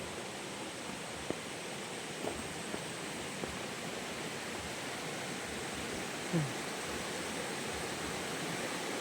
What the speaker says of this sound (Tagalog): Ayan po ang ilog.